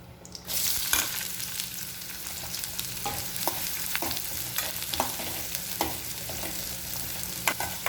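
Chopped onion and curry leaves fry in hot oil for a Kerala tomato curry, making a steady, close sizzle with stirring scrapes and light taps on the pan.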